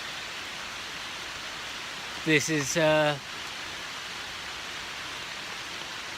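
Heavy rain falls steadily over a jungle after a thunderstorm, a broad even wash of noise throughout, briefly interrupted by someone speaking.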